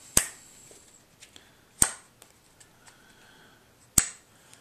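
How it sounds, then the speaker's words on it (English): A playing card flicked around quickly in a magic card change gives three sharp, snappy cracks spaced a couple of seconds apart, close and crisp against a quiet background, with faint handling noises in between. "it flicks the card around"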